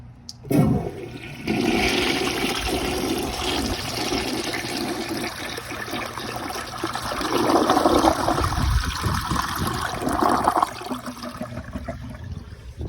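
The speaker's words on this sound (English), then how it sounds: "That was all the water out of the tank." A toilet flushometer flushes with a forceful rush of water that runs steadily for several seconds, then gurgles and trickles as it winds down; no voices.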